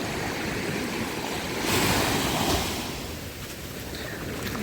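Black Sea waves wash onto a shore at Odesa with a broad, hissing surge that swells and recedes, mixed with wind buffeting the microphone; no voices.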